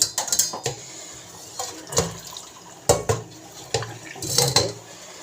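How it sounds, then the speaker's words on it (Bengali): Boiled banana flower is drained of water in a kitchen: splashes and trickles of water mixed with clanks and clatter of a metal pot and utensils, coming in several close bursts. "মোচাটা জলটা ঝরিয়ে রাখবো"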